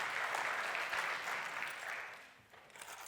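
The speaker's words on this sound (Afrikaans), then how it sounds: "kan ons hulle hande klap gee" A church congregation applauding, a sustained wash of many hands clapping at moderate distance that thins and fades near the end, with no talk heard over it.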